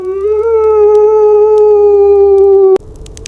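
A wounded wolf pup's cry from outside in the extreme Yakutia cold: one long, steady, tonal whining howl held for nearly three seconds, loud and alone, then cut off abruptly.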